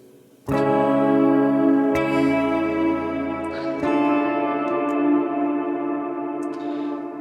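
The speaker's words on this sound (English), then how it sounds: "that's modulating the reverb. So it's giving us that shimmering cloud quality" Sustained synth tones bloom into a washy, shimmering modulated reverb tail from Quad Cortex stock devices, Strymon-style, that swells and wavers, with a few fresh note attacks feeding the glittering cloud.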